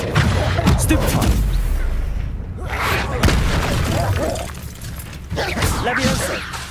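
Spell effects from the Hogwarts Legacy video game, with a Stupefy spell cast among rapid combat, dense bursts of magical whooshes, impacts and mechanical crunches in quick succession, loud and busy throughout.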